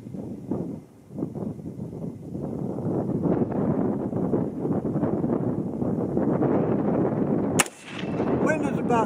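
A single sharp rifle shot from a 6.8 SPC-II firing 100-grain Speer hollow points at a target rings out near the end, cutting through steady loud wind buffeting the microphone outdoors.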